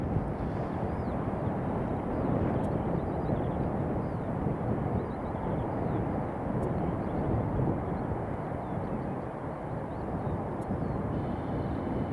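A Norwegian Boeing 777 roars at Edinburgh airport, a broad, steady engine rumble that swells and eases slightly under light wind noise, with no voices.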